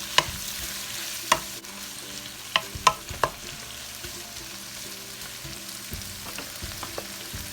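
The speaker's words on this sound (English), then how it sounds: "tomato and kimchi, cabbage kimchi. And mix it well." Tomato and cabbage kimchi sizzle gently in a frying pan for chicken kimchi fried rice, with a spatula scraping and clacking against the pan in scattered sharp knocks.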